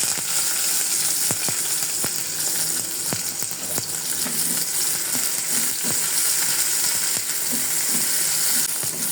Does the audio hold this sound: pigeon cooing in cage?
no